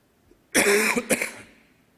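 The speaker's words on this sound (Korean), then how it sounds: "집에서는 기침을 안 하는데 여기 올라오면 기침이 나오는 것 같아요." A single harsh cough from a preacher during a church dawn prayer service, followed quickly by a second shorter one, close and loud in an otherwise quiet room.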